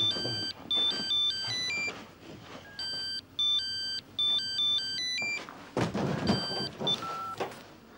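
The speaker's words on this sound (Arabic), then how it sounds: "رد على التليفون" A telephone rings in a tense domestic scene, its electronic trilling tone repeating in clear bursts with short pauses between them, fairly close and loud over a faint background.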